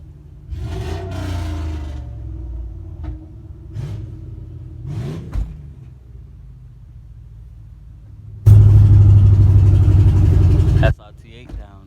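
A 2000 Dodge Durango with a muffler delete and gutted catalytic converter idles nearby as a low rumble under people talking, then rises into a loud, steady drone for a couple of seconds before dropping back.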